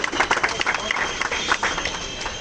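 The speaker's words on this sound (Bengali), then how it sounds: "আমি টুকেদার ফোর জন্য সবাইকে একটা হাততালি দিয়ে উৎসাহিত করার জন্য অনুরোধ করাচ্ছি" Audience at a seven-day Ekushey book fair opening in Kasba applauds in a dense, steady burst of clapping, moderately loud and continuous, with faint crowd murmur underneath.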